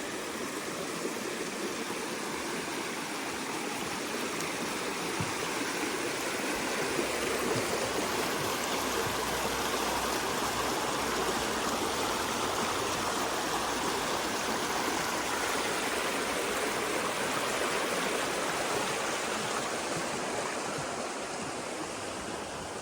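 Creek water rushing steadily along a trail on a cool, dry day, a dense continuous broadband wash with no voices.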